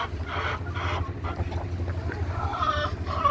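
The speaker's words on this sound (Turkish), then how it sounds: "Şöyle tavukların keyfini görüyorsunuz." Chickens cluck softly and steadily over a low background hum, with a few higher-pitched squawks toward the end.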